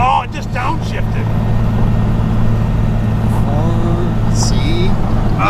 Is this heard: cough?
no